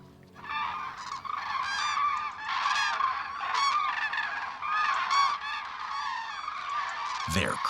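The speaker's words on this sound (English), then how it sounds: "They're cranes." Flocks of cranes migrating from Scandinavia to Spain call in loud, overlapping trumpeting honks, many birds together and fairly close, sounding continuously without voices.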